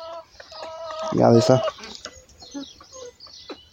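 Four hens cluck in a henhouse where a new rooster has arrived, with a loud burst of clucking near the middle and softer clucks around it, close by. Someone speaks briefly.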